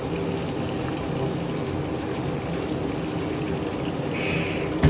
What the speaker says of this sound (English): I'm wondering who's running the water in here.